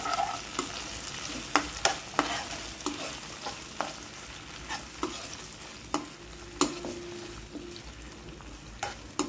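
Tomatoes stirred into browned onions in a frying pan, a steady sizzle under repeated scraping spoon strokes at an even rhythm, close and clear with no talking.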